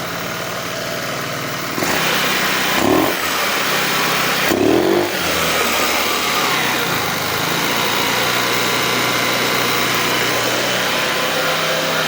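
Kymco People S 200i scooter engine running with a fuel-system fault, lean and unstable at idle: a steady close engine drone that starts up abruptly, with a couple of brief revs and a rough note, no talk.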